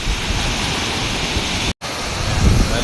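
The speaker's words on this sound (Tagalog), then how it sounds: "Kaya malakas ang alon." Rough sea waves churn ahead of an approaching typhoon, a loud continuous roar of surf and wind with a brief sharp dropout near the end and no voices.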